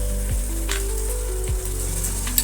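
Ginger, garlic and chili paste sautéing in a pan over browned onions for prawn biryani, a steady close sizzle with a few soft stirring scrapes and no voices.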